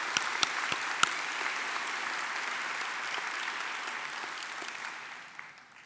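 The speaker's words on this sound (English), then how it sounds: "That's a clap." Sustained applause from a large crowd at a nursing school pinning ceremony, steady and dense throughout with a few sharper claps near the start, fading slightly at the end.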